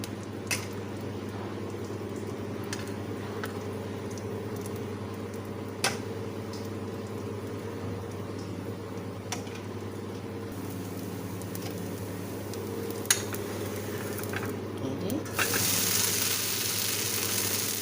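Jackfruit dosa batter frying in oil on a pan, a steady, low, even sizzle that runs on its own without talk, broken by a few faint clicks and ticks.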